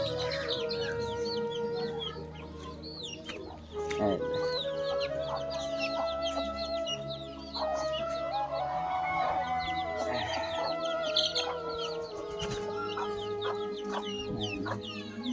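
Chickens and ducks cluck and squawk steadily in cages set in front of a rural Bangladeshi house, with overlapping calls, a rooster among them, dense and close throughout, no talk.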